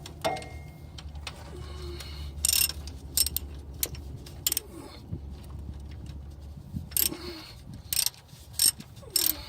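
A hand ratchet clicks in quick, irregular bursts as it loosens the pan bolts on a 4L60E automatic transmission, close and sharp against a steady low background hum.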